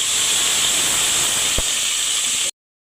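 Spice paste for beef biryani hits a hot pan with a loud, steady steam-like hiss that holds for about two and a half seconds, then cuts off abruptly.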